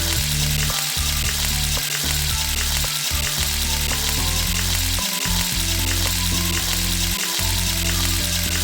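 Onions sizzle steadily in hot oil as they sauté toward golden brown for a chicken curry, with repeated scraping stirs from a spoon at irregular intervals; no voices.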